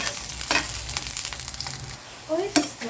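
Squid balls frying in hot oil, a close, constant sizzle broken by a few stirring scrapes and clinks, with a brief pitched sound near the end.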